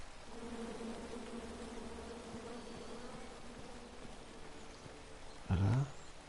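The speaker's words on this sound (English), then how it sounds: "Come at me, bees!" Bees buzz in a continuous low drone throughout a scene from the King's Quest video game, holding steady at a moderate level before a brief, louder burst of sound near the end.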